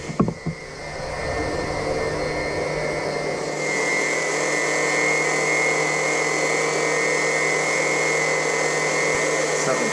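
A pump restarts to circulate vinegar through a tankless water heater, a steady loud motor whine and hum with a rushing flow, after a brief clattering start, continuous and close.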